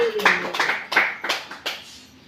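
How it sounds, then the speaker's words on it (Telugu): Congregation clapping hands in praise at a church gathering, about six loose, uneven claps in a slightly irregular rhythm. The claps are moderately close and fade at the end, with a voice briefly audible underneath. "చప్పట్లు కొట్టి దేవుడికి స్తోత్రం చెప్పండి"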